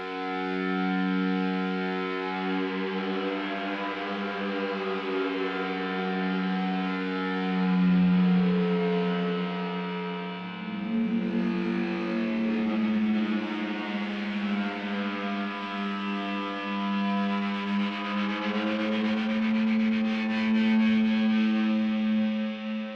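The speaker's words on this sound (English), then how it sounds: "Today, we're going to be making like a lead sort of texture sound." A Serum synth lead texture patch called Drifter plays a sustained, rich, buzzy tone, layered and gently wavering, that shifts pitch slowly over about twenty seconds, loud and continuous with no voices.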